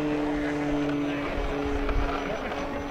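An FMS Ranger RC model airplane flies at an RC flying event, its electric motor giving a steady droning buzz with a constant tonal whine, moderately close and sustained throughout.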